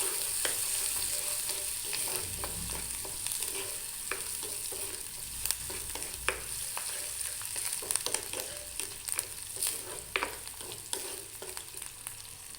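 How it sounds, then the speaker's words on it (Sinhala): Pandan and curry leaves fry in hot oil in a pan with a steady close sizzle, broken by frequent crackles and pops as the leaves are stirred, and no one speaks. "දැන් මේක චුට්ටක් විතර අපි ෆ්‍රයි කරනවා"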